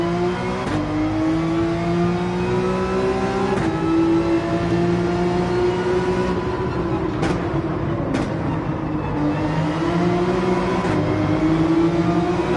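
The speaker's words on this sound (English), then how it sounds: "I guess I'll just enjoy the wonderful sounds of this car in the tunnels." A race car engine in Gran Turismo 7 roars continuously at high revs, dropping briefly with each gear shift and echoing inside a tunnel, loud and steady.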